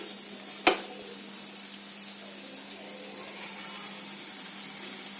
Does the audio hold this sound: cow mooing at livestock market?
no